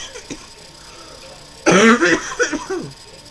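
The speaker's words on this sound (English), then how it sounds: "that's probably what's making my cough a little worse" A burst of harsh coughing and throat clearing erupts partway through, loud and close, following a quieter stretch of background noise.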